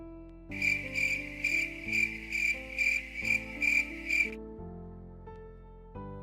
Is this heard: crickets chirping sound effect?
yes